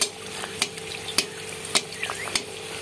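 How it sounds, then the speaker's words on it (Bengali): Pieces slipped one by one into hot oil sizzle steadily while a utensil taps and stirs in a regular rhythm, sharp clinks standing out over the close frying hiss; nobody speaks. "আমি এবার একটা একটা করে সুন্দর করে তেলে ছেড়ে দেব"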